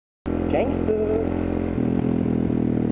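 Motorcycle riding along with a steady loud engine drone and road rumble, the engine note shifting slightly midway, close up with wind noise, as a rider remarks that the bike feels strange.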